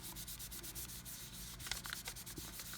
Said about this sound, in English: give it a bit of a burnish